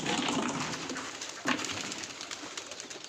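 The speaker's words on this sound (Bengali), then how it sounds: "সব পায়রাগুলো বাইরে আছে এখন, এই পায়রাগুলোকে দেখা রে, সব পায়রাগুলো এখানে আছে।" Pigeons in a loft coo softly amid a dense, busy wash of bird chatter and rustling, with one brief louder flutter or knock, heard up close and steady throughout.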